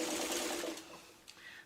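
A sewing machine runs in a short quick burst, stitching chained fabric pieces for a Dresden quilt block, its fast needle chatter fairly soft and close before slowing to a stop.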